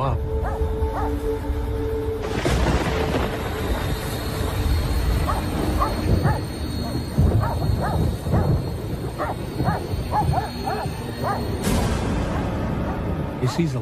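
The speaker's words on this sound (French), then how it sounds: "son chien s'est mis à aboyer, ce qui l'a réveillé." A dog barks repeatedly in short bursts with some whimpering, mixed with a person talking, moderately close.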